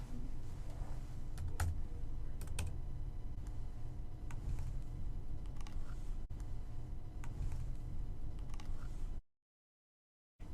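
Typing on a computer keyboard, a steady stream of quiet, close key clicks for about nine seconds with a few louder taps, ending abruptly in silence.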